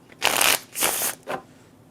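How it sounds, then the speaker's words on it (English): A deck of playing cards is riffle-shuffled at a table during a solo board game, three quick whirring bursts close to the microphone, with short pauses between them. "I don't know why I'm shuffling this so much."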